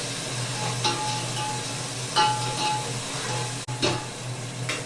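Onion with ginger and garlic fries in a pan for pulao, giving a steady close sizzle with several scraping stirs of a spoon and one brief clack against the pan.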